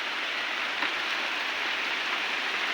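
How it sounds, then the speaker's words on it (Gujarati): Steady rain falling in a village, a dense, even hiss of drops with no pauses or voices. "બહુ સારી મેર કરી દીધી ભગવાને વરસાદની."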